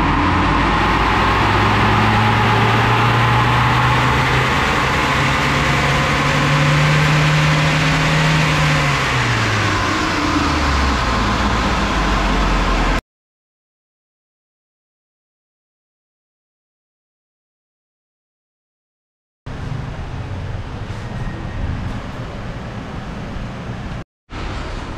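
A Ford Ranger Raptor engine runs hard on a dyno, a loud, steady roar with a rising and falling rev pattern for about thirteen seconds, then silence, then a lower running engine returns.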